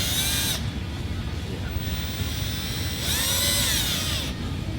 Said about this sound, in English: Do not ream with a hand drill.